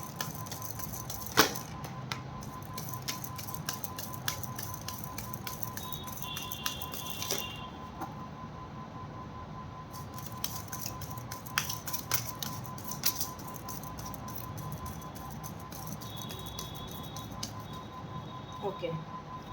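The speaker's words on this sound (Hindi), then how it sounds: "This is my last shuffle." Tarot cards shuffled by hand, giving scattered soft riffling clicks and papery flicks at an uneven pace over a low steady background hum, close and fairly quiet.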